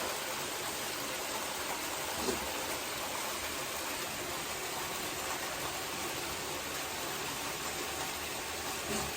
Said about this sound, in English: let me let you take a look at how I showered the plant